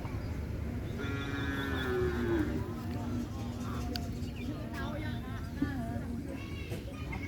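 A cow gives a long, drawn-out moo at a livestock training field, a moderate sustained low call heard once amid steady background noise and faint ambient sounds.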